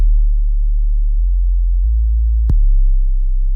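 A deep synthesized bass plays a few sustained low notes that step between pitches, with a sharp click partway through.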